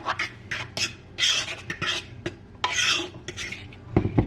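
Mixing flour, baking soda and salt in a small bowl: a quick run of short, close scraping strokes against the bowl, rising and falling in an uneven rhythm, with a few soft knocks at the end.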